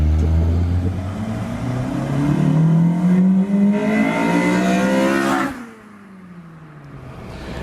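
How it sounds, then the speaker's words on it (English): A Honda Civic's B18C engine, recorded from outside the car, revs hard and climbs steadily in pitch, then cuts off sharply and settles to a low idle rumble. "To get a sound clip from the outside of the car."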